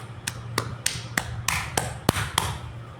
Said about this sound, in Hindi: ये हमारा टेम्पोटमेंट, इसको हम रिथमिक टैपिंग भी कहते हैं। ये साउंड के साथ आना चाहिए।